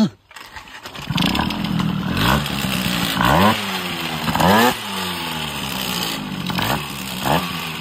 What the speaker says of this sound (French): Ça gueule bien.